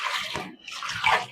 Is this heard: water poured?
yes